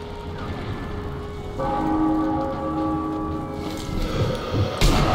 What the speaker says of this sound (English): I have to wait for the church bells to ring.